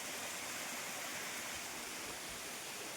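Waterfall plunging into a deep ravine between hills, a steady, loud broadband rush of falling water that continues unbroken and fills the whole scene with no voices.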